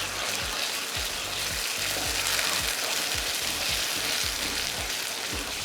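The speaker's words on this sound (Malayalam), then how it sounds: "മസാല വഴറ്റിയെടുക്കാം." Masala sizzles and crackles steadily in a pan with sautéed onions, a dense continuous frying hiss with rhythmic low scraping strokes of stirring throughout, close and fairly loud, with no voices.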